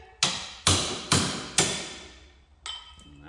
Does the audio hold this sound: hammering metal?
yes